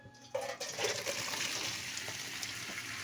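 Hot water from cooked pancit canton noodles gushes and splashes out as it is drained, a sudden loud pour that continues as a steady hiss.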